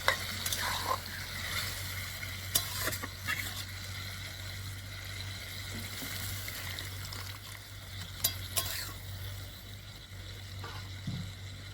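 Rohu fish curry with cauliflower and potato bubbles in a pot, a low steady sizzle with a few sharp utensil scrapes and taps from stirring, no speech.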